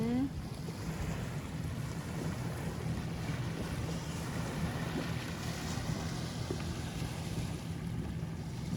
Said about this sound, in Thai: บรรยากาศทะเลค่ะ จะเป็นหินเยอะแยะเด้อค่ะเด้อ